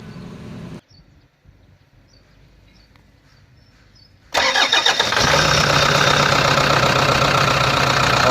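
A Toyota Hilux engine, just fitted with a repaired starter bendix drive, stays quiet for a few seconds, then cranks and catches abruptly. It settles into a loud, steady idle close to the microphone.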